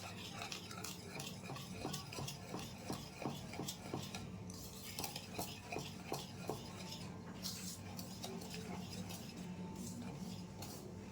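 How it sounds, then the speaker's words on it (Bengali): Mini cake batter being stirred in a bowl, a run of quick scraping and clinking strokes from a utensil against the container at close range, fairly quiet and steady, with no talking. "এটাকে আমি ভালো করে মিশিয়ে নিচ্ছি।"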